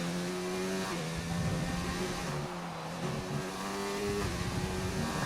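Several race cars battle on the Mexico circuit in a racing video game, their engines holding steady, overlapping high whines with shifting pitches as they run close together, loud and continuous throughout.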